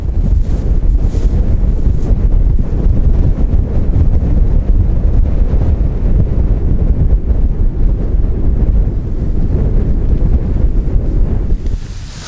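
Strong wind at a wild camp on Hare Law buffets the microphone in a continuous, loud roaring rush, steady for the whole stretch with slight gusting swells.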